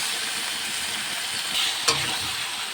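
Meat sizzling in a pan with spices as it is stirred and browned, a steady close hiss with a brief scrape and clink of the utensil near the end.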